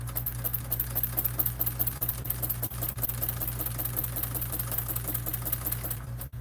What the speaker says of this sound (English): it seems to be sewing more smoothly now that I put the proper needle in the machine